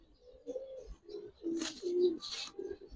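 Giribaz pigeons, including a yellow male, give soft, low repeated coos close by at low volume, with a couple of brief rustling bursts between the calls.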